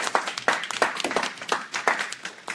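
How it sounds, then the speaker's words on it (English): A business law class at BSU applauds, a brief burst of scattered hand claps from a modest group, rising and falling unevenly at moderate volume. "let's give everybody a round of applause"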